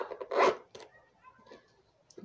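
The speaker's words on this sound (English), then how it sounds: "just one side of the boot zips." A boot zipper, fitted on just one side of the boot, is pulled in one quick rasping stroke followed by faint scraping and handling.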